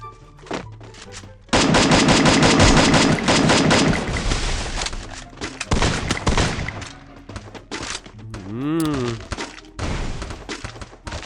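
Rapid bursts of automatic gunfire in the mobile battle-royale game Free Fire, loud and close, followed by scattered single shots and thuds while players talk excitedly.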